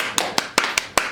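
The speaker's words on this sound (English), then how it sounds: "round of applause for the neighbors" A few people clapping for podcast guests, six sharp, evenly spaced claps in just over a second, close and dry, with no crowd wash.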